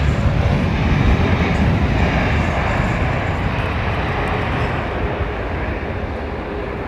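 Virgin Atlantic airliner at London Heathrow Airport, a loud, steady broadband jet roar that holds close and constant throughout before easing slightly near the end.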